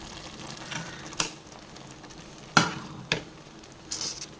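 A spoon stirs a tomato paste mixture with chilli powder and cumin in a pan, giving a few scattered scrapes and clicks over a quiet background.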